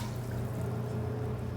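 Water poured from a measuring cup into a pan of uncooked rice, a steady, continuous low pour heard up close with no talking.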